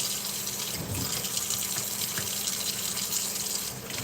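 A tap runs steadily into a sink as cooked rice for jollof is washed in a pan, a continuous hissing splash that stays even throughout.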